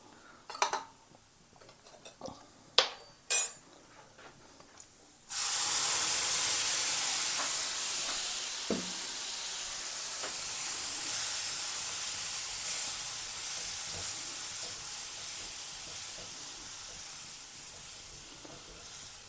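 Boiled white chickpeas tipped into hot masala in a pan for Kerala-style kadala curry, starting with a few clinks of utensils, then a sudden loud, sustained sizzle that hisses steadily and eases slightly over time, with no talking.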